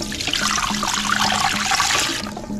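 Water pours into a pressure cooker in a steady, close splashing stream lasting a couple of seconds, with no voices.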